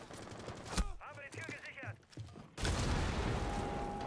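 Rainbow Six Siege gunfire shoots through a wall in short bursts, with sharp cracks alongside brief game noises, then a louder, sustained rattling spray near the end.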